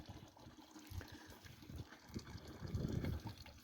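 Spring water rising from beneath rocks near a village, flowing with a steady gush and trickle that swells louder toward the end, with no one talking.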